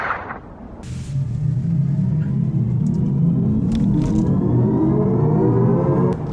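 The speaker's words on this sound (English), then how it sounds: "As you can hear, the artificial sound of this car is fun" Artificial driving sound of a 2023 Genesis GV60 rear-wheel-drive electric car: a steady synthetic hum that rises in pitch as the car accelerates, loud and continuous after a brief quieter start.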